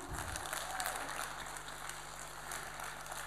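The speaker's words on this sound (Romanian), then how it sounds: "Haideți să-i aplaudăm și să-i invităm în scenă." A concert audience applauds guests from the town of Ocnița as they are invited onto the stage. The clapping is even and continuous, with a faint steady hum underneath.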